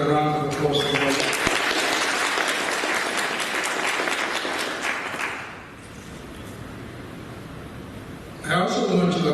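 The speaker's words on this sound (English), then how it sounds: "Let's give Ms. Johnson another round of applause for her." Sustained audience applause fills a university conference hall for most of the stretch, thinning to a quieter crowd murmur before a voice begins speaking near the end.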